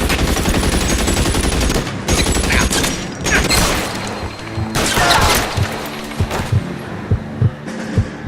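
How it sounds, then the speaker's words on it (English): Gunfire in the video game L.A. Noire, set in period Los Angeles: a dense, sustained volley of shots that thins into separate, punchy cracks near the end. "Shots fired."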